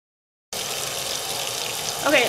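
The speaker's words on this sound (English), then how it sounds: "you really want to let the machine fill up with water first before you start putting this dye in" Water runs steadily into a washing machine as it fills, a continuous broadband rush with a brief brighter splash near the end, and no voices.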